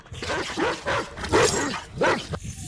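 Several loud, close dog barks in quick succession, a few rough and overlapping, with a brief whine in between.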